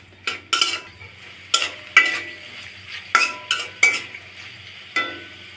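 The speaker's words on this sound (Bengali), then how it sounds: "এখন গুঁড়ো মশলাগুলি ভালোভাবে কষিয়ে নিব।" A spoon stirs ground turmeric, chili, cumin and coriander with ginger in a frying pan, giving about nine separate scraping strokes over a low, steady sizzle, close and clear with no talk.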